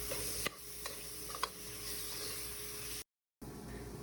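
Salmon being stirred with minced garlic, black pepper and curry leaf paste in an oiled pan, a steady soft sizzle with a few scraping spatula taps, then a brief dropout before the frying resumes.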